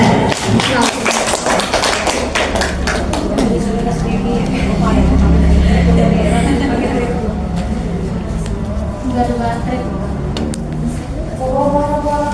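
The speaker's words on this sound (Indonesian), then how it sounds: "kita beri tepuk tangan dulu untuk Budian." A group applauds a participant at a school teacher training session, with scattered claps loudest at the start and thinning out under a steady murmur of voices and speech.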